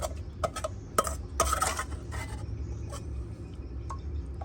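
Bamboo shoots are pounded in a mortar with a pestle, giving close, irregular knocks and clatters with a few sharper strikes early on and softer tapping after, with no talking.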